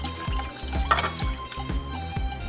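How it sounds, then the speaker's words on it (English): Half a cup of water poured onto sugar in a cooking pan while preparing zoolbia bamieh syrup, a soft liquid trickle and splash over faint repeated low thumps, close and fairly quiet. "Next, we'll add 1/2 cup of water to the sugar."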